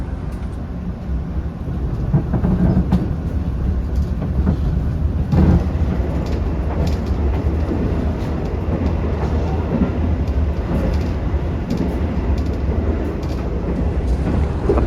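Inside the Gajayana executive train pulling out of Blitar station, a deep, steady rumble and roar of the carriage at speed continues throughout, with faint rattles and occasional knocks from the track.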